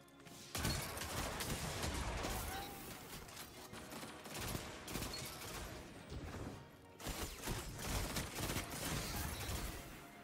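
Rapid volleys of gunfire from a video game, loud and dense, crackling almost continuously with a short lull near the middle before the shooting resumes.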